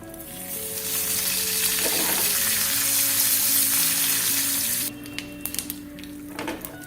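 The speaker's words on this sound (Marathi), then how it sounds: "मोहरी तळतळायला लागली" Mustard seeds and curry leaves spluttering in hot oil with asafoetida in a pan, a loud, close, continuous sizzle that cuts off abruptly, followed by faint clinks and brief crackles.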